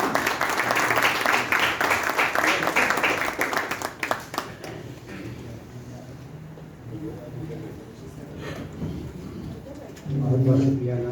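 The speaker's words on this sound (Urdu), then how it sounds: "آپ کی بھرپور تالیاں" Audience at a mushaira, an Urdu poetry gathering, applauding a poet: dense, loud clapping for about four seconds that thins out and fades into a murmuring hall with a voice speaking.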